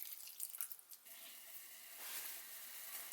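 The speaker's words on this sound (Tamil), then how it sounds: "அதில் 1 கப் தண்ணி சேர்த்துக்கோங்க." One cup of water is poured from a cup onto two cups of sugar in a pan to make syrup for jalebi, producing a soft, close trickling splash that lasts a few seconds, quiet and without talking.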